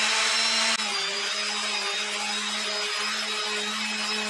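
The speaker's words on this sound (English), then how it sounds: "remove the tape, and commence some sanding." A power sander works over an epoxy-filled workbench top, a loud steady motor whine with a constant hum and a brief dip in pitch early on, running without pause.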